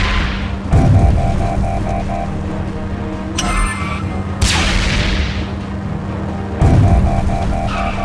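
Cartoon gunfire from Transformers Rescue Bots: a few loud blasts and booming shots burst out over a busy, rumbling action soundtrack, spaced several seconds apart.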